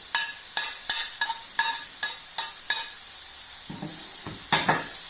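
Red pepper, green pepper and carrot stir-frying briefly in a pan for a Turkish dish, with a regular run of close spatula taps and scrapes over a light sizzle, no voices.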